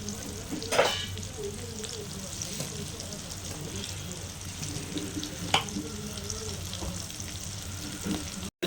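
Dried stingray and anchovy fish fry in a pan over medium heat, giving a steady close sizzle throughout with a few brief clinks of a utensil.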